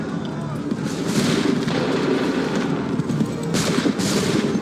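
A musket volley rings out in Assassin's Creed III Remastered, a sustained crackle of massed gunfire with bursts near the start and again toward the end, under shouted battle commands.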